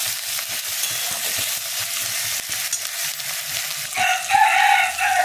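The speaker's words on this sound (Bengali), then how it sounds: "পরে মশলাটা ভালো করে কষা হোক।" Spice paste fries in oil while being stirred, a steady crackling sizzle with repeated scraping strokes that grows a bit louder and brighter near the end.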